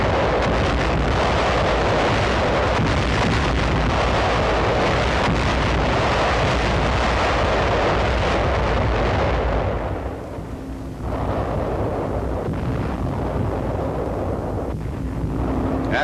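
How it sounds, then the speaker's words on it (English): Naval bombardment by the U.S. 7th Fleet produces a continuous, heavy rumble of explosions, dense and loud for most of the clip before easing slightly near the end. "The 18-day pre-invasion softening up of the rich oil area is followed by a bombardment from the U.S. 7th Fleet"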